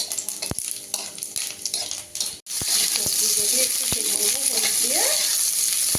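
Panch phoron spices crackle and fry in hot oil, with a dense close sizzle, sharp metal spatula scrapes and taps against the pan, and a brief pause before the frying resumes louder.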